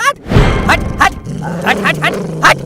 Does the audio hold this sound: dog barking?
yes